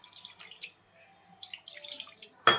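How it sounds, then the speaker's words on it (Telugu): Water is tipped into Andhra-style fish curry in a few soft, splashy bursts with quiet gaps between them, ending in one sharp, louder splash up close. "ఇప్పుడైతే వాటర్ పోసుకున్నాము."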